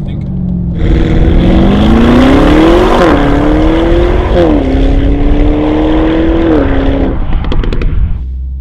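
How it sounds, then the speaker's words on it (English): A Novitec-tuned Lamborghini Urus makes a launch control start, its engine roaring loud and close and climbing through several gear changes before the sound cuts off abruptly. "we do a little launch control start"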